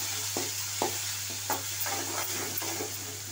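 Cut tomatoes going into a hot frying pan for a herbal rasam with asafoetida, setting off a constant loud sizzle with several stirring scrapes and clatters on top.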